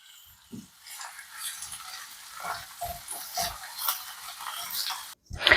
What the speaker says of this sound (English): into your hot oil, and with a spoon, you are going to just saute them